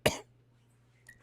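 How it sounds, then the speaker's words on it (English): One short, sharp cough bursts out close to the mic, followed by near silence with a faint hum. "I don't know why I got this cough"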